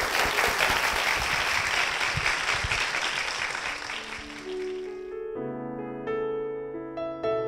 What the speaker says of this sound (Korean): 앞으로의 삶을 위해서 여러분 축복의 박수 부탁드리겠습니다